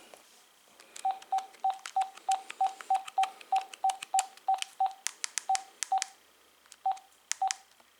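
An AT&T CL82301 cordless phone gives a series of short, even button beeps as each key is pressed, about twenty tones with brief gaps and a few longer pauses. Faint clicks from the keys accompany them, close and clear with no talking.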